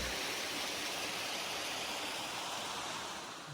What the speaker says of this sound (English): I wish I could tell you what the name of this waterfall was.